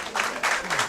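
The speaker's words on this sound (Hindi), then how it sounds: "जोरदार तालियां हो जाए" Audience applause at a farewell event for a sociology foundation batch, a dense wash of clapping swelling in brief waves, close and fairly loud.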